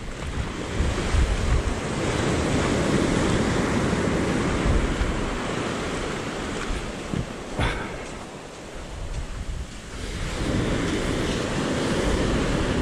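Sea waves washing onto a shore on an overcast day, a continuous roar of surf with swelling and easing rhythm, buffeted by heavy wind noise on the microphone.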